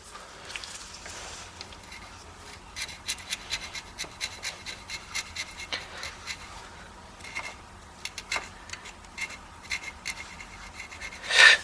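Leftover gasket material is scraped off a part during a 1986 Mustang GT short throw shifter install, a series of short, faint, close rasping strokes in an irregular rhythm.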